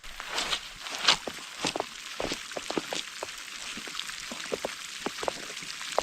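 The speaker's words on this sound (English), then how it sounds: "Here's the rains." Rain beginning to fall on a mountainside during a camping trip, scattered drops pattering irregularly and close by against a steady soft hiss, with no talk.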